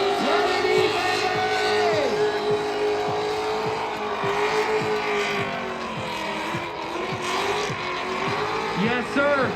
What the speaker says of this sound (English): There he is, ladies and gentlemen, drifting.